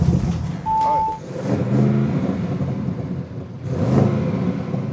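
An Audi RS6 C8 fitted with aftermarket catalytic converters revs hard nearby, its engine note climbing and falling in loud, rising surges over a steady throaty rumble, with no voices.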